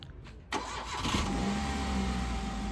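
A car engine starts, then runs steadily during a driving practice round, a continuous mid-pitched hum that holds close and loud after a quiet opening moment.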